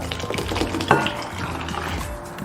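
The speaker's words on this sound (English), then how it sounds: "We're just going to pour our coconut milk" Coconut milk poured into cheesecloth folded many times, a close, steady liquid stream with a soft splashing gurgle and a brief clink partway through.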